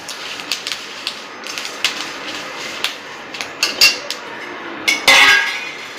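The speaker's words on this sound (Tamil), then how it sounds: "கருவேப்பிலையும் வரமிளகாய் இப்போ நல்லா நம்ம வறுக்கிறோம்." Curry leaves and dried red chillies are dry roasted in a pan for idli podi, with a close series of sharp clacks and scrapes from a utensil against the metal, irregular and fairly loud.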